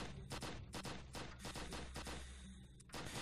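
Rapid bursts of gunfire in a Roblox cop game, a dense string of loud, close shots fired in quick clusters with brief gaps, continuing steadily throughout without any talking.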